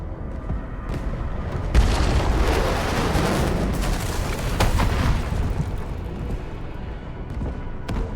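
A UWST artillery strike rumbles through a battle in the video game Arknights: Endfield, with deep, sustained booming explosions rolling continuously, swelling after the opening and staying loud, no voices.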